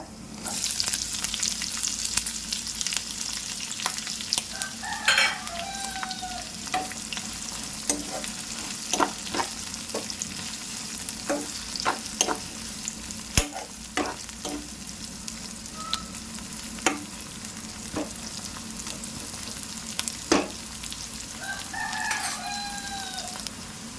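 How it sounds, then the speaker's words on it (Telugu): Onion and green chillies frying with garlic in a pan: low, steady sizzle with frequent sharp stirring clicks and scrapes, while a rooster crows a few times in the background. "ఇప్పుడు పచ్చిమిర్చి, ఉల్లిగడ్డ, పెద్దది ఒక ఉల్లిగడ్డ వేసుకోవాలి"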